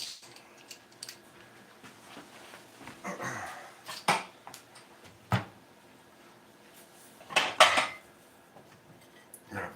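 Plates and utensils clatter in a kitchen while a pork roast is plated, with scattered clinks and knocks and a few louder bursts of dish noise, no talking.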